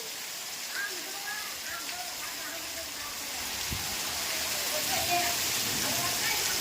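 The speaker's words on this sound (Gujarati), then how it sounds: "વરસાદ ચાલુ થયો" Rain falls in a steady wash of hiss and patter that swells slightly louder over several seconds, with faint voices present underneath.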